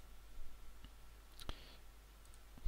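A computer mouse clicking during work in Visual Studio, a few faint, sharp, isolated clicks over a quiet room hum, one click standing out clearer than the rest.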